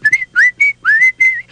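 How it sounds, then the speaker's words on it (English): A cartoon rabbit whistles a bouncy tune in five or six quick, clear, sliding notes, loud and close with no other sound. "He was singing and whistling"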